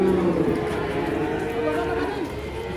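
Cattle are unloaded from a truck, with a continuous low, rumbling moo from the animals over busy background commotion.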